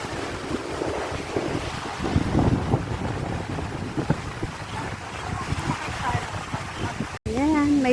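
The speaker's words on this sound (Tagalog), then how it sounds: "ang lakas ng hangin." Strong wind buffets the microphone at a beach, with a steady roaring rumble and surf behind it that fills the whole clip, cut by a brief dropout near the end as a voice starts.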